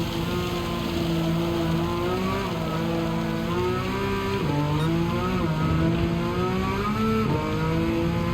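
Race car in Gran Turismo 7 driving a wet Nürburgring, its engine a steady, loud drone with pitch rising and dipping through gear changes and corners, hiss of rain and spray underneath, no talk.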